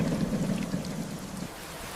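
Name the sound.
rain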